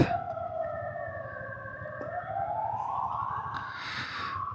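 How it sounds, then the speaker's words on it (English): A wailing siren rises and falls steadily, moderately distant, sustained throughout with a low background rumble, on the road from Nujiang to Lanping in Yunnan, China. "It's really distressing to be listening to the siren repetitively"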